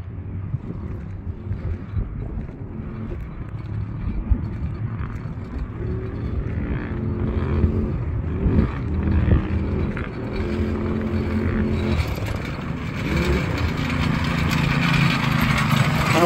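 A Coleman go-kart with a 212 engine, whose front left tire keeps going flat, runs with a steady droning engine note. The drone grows somewhat louder and busier toward the end, with no clear speech over it.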